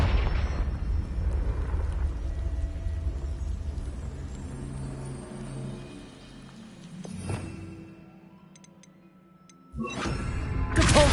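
Confringo fire spell explosion in Hogwarts Legacy, a sustained loud rumbling burst that fades, then a sharp crack and a renewed loud roar near the end.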